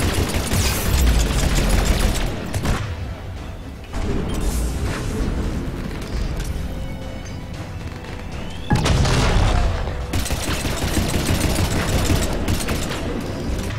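Gunfire and heavy booms from a Mass Effect 3 battle on Cronos Station, loud and continuous with bursts and explosions rising and falling over several seconds.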